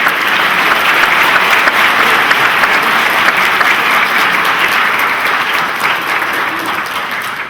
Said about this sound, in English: Can you give all of those here today a round of applause?